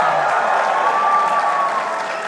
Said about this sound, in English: Make some noise for Pavlo.